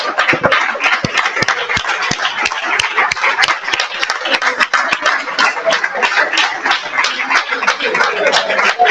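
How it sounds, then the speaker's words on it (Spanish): Audience applause fills a hall at a book fair talk in Buenos Aires, dense continuous clapping with sharp individual claps standing out, sustained for several seconds with some voices mixed in. "Terminamos con un fuerte aplauso."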